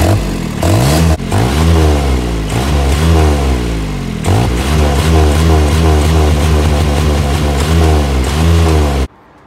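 A diesel golf cart engine with its injection pump turned all the way up revs hard again and again. Loud, close, rising and falling pulls sit over a clattering idle until the engine cuts off abruptly at the end.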